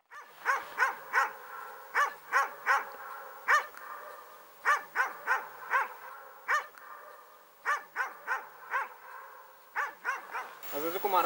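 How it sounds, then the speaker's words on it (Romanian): Several dogs bark repeatedly in the background along a snowy forest road in Retezat National Park in winter, coming in sharp clustered bursts throughout, fairly close, with a brief rustle at the end. "dacă n-ar mai lătra câinii pe fundal să mă acopere"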